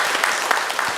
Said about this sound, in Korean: 우리 박수로 우리 한번 위로와 격려를 하도록